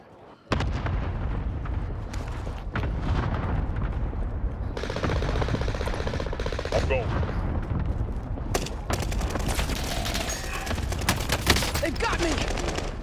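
Gunfire in the video game Call of Duty: Modern Warfare, a dense, continuous barrage of shots and blasts running loud and close for the whole stretch after a brief quiet start.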